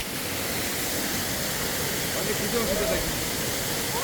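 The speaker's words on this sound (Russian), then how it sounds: "А вот еще один живописный водопад." A scenic Himalayan waterfall roars as a steady, broad hiss of falling water, constant and unbroken throughout with no voices.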